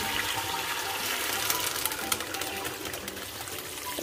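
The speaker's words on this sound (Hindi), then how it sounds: "और इसमें जाएगा डायरेक्ट पानी।" Tap water gushes steadily into a pot of chopped chicken pieces for homemade chicken soup, about 1.5 litres poured directly in; a continuous, close, broadband rushing and splashing flow with no talking.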